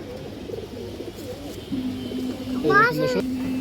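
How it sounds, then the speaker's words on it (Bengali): Low cooing of a male homing pigeon hums under nearby talk, with a voice rising over it near the end. "কবুতরের চোখ দেখেন দর্শক"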